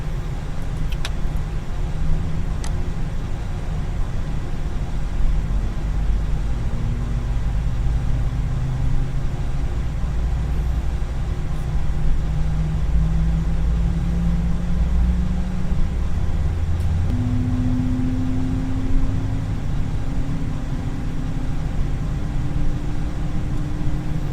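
Airbus jet engine number 1 spooling up in the FSX flight simulator, a steady low rumble with slowly rising whine tones building over about twenty seconds, loud and continuous with no talking.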